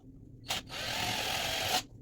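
A power drill boring holes to mount a window blind bracket: a short burst, a brief pause, then a steady high whine lasting about a second before stopping.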